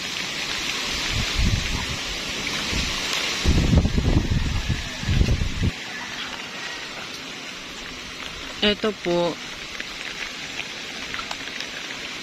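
Steady heavy rain hisses over garden foliage during a storm in Camarines Sur, Bicol, with low rumbling wind gusts early on and a short spoken phrase near the end.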